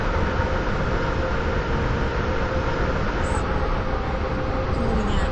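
Train running in a video game on the line to West Wyvern, a steady loud rumble and rolling wheel noise with a dense continuous hiss, no talking.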